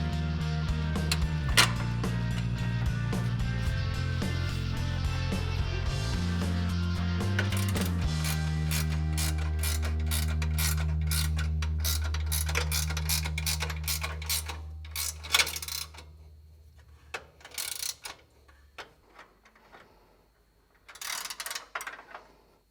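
Hand ratchet tightening a nut on the fairlead of a CBI T3 Covert half bumper with winch, a steady run of mechanical clicks over a low hum, thinning to scattered taps near the end.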